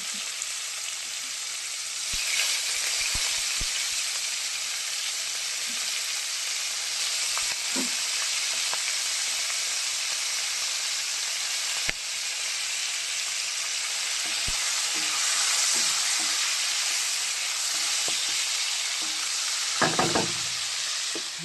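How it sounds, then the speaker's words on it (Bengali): Green chillies and tomato fry with fish in a pan, giving a steady, close sizzle for the whole stretch, with several scrapes and knocks from stirring. No one talks. "কাঁচা লঙ্কা টমেটোটা ভালো করে ভেজে নেব"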